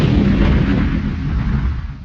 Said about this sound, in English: This is an explosion!